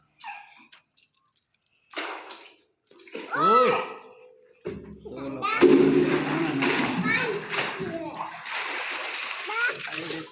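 Water pours and splashes into a bucket being filled to water trees, with the gushing and splashing growing fuller partway through while children talk nearby.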